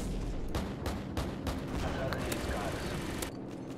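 Rapid gunfire in Call of Duty Modern Warfare 2, dense bursts of shots cracking one after another throughout, with a player talking underneath.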